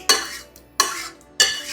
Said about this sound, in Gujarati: બીજા વાસણમાં કાઢી લો એટલે ફટાફટ ઠંડુ થઈ જાય